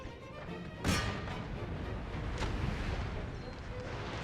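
Cannon fire in the Empire: Total War battle, a sharp loud blast near the start followed by a second fainter boom, over a steady rumble of battlefield noise.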